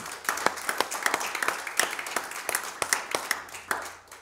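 Church congregation clapping at a Sunday service: crisp, scattered hand claps in an uneven rhythm, moderately loud and close, with no talk.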